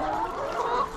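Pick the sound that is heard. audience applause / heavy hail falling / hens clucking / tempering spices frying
hens clucking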